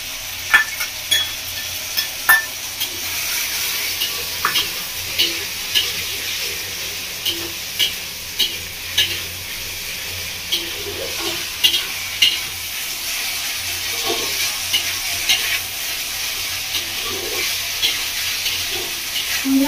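Ground spice paste fries with okra and potato for a fish curry, a continuous close sizzle broken by regular soft stirring knocks, with a voice faintly audible at moments.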